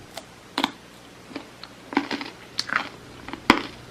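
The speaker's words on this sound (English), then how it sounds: "It's almost like you're eating chocolate with such a good crunch." Crunchy Hawaiian chocolate candy being bitten and chewed up close: irregular dry crunches and crackles scattered over a few seconds, with one sharp loud snap near the end and no talking.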